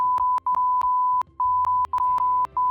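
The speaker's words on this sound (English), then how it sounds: "beep noises" A rapid series of short, sharp electronic censor beeps at a single pitch, some clustered close together, loud and alone over faint low hum.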